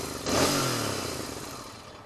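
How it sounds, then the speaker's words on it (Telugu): A Royal Enfield Continental GT 650 twin engine revs up sharply, then settles into a steady throaty rumble close by, with no talk over it. "జీటీ సౌండ్ సౌండ్ చూడు ఒకసారి"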